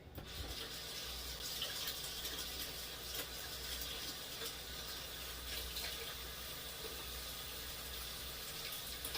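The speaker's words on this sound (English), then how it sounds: "So I'm just going to remove my blade and I'm going to rinse it." A mixer blade is rinsed under a running kitchen tap while making sweet potato pie, giving a steady, even rush of water that holds for the whole stretch with no talking.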